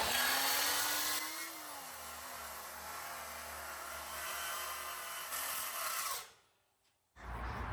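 A power saw cuts through roofing material beside a modern house, giving a loud, steady whining buzz whose motor hum shifts slightly in pitch. It runs for about six seconds, then cuts off abruptly, and a brief resumption follows.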